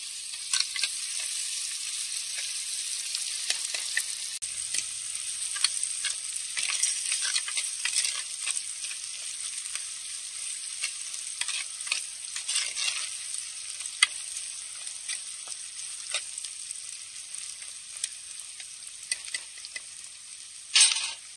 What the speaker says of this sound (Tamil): அடுப்புல வெங்காயம் வதங்கிட்டு இருக்கு.